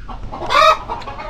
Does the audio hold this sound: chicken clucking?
yes